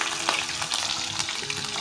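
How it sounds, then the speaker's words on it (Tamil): Mustard seeds, fennel and green chillies fry in hot oil with a steady, close crackling sizzle that runs evenly throughout. "அது அப்படியே பொரிஞ்சு கொண்டிருக்கிற நேரம் இந்த வட்டி வச்சிருக்கிற வெங்காயத்தையும் அதில் சேர்த்துடுங்க."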